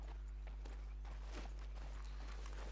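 Horse hooves clip-clop in the video game Red Dead Redemption 2, a few faint, irregular thuds over a steady low hum.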